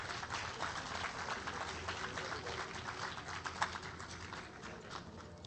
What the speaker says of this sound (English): Please a big round of applause for Professor Dr.